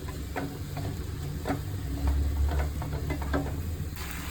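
A handful of coriander leaves frying in a pan gives a steady sizzle, broken by a series of sharp scrapes and clinks from the stirring spoon at a loose, regular pace.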